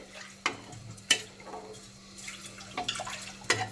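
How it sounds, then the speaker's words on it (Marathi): Masala rice is sautéed in a pan, heard as soft frying hiss with several distinct spoon scrapes and clanks spaced a second or so apart, quiet and close with a low steady hum underneath. "आता थोडंसं परतून घ्यायचं आहे."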